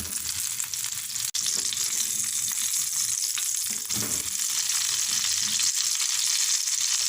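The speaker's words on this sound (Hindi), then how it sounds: "दूसरी तरफ से भी हम कबाब फ्राई कर लेंगे" Chicken omelette kababs fry in a pan with a steady, loud, continuous sizzle that barely changes throughout, and no one speaks.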